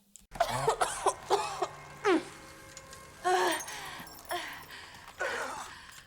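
A series of harsh, repeated coughs with strained, moaning breaths between them, loud and close, spread across several seconds.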